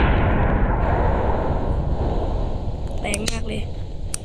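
A massive, sustained roaring rumble of a video game nuclear bomb explosion fills the clip, loud and booming, with a voice briefly exclaiming over it near the end.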